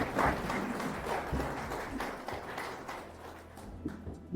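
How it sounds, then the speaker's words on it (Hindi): An audience claps together at an RCM business gathering, a soft, fairly distant patter of many hands that stays steady, then thins slightly toward the end. "ताली बजाइए आप लोग"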